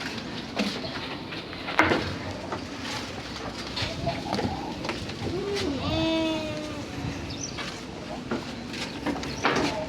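Goats bleat on a small farm, a few wavering calls with one clear drawn-out bleat midway, heard over outdoor background noise and some movement.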